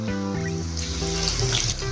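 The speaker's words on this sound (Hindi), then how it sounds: "अभी थोड़ा सा इसमें हम पानी डालेंगे" Water runs steadily from a tap into a pan of spiced potato and eggplant curry, a continuous splashing stream with a faint clink near the start.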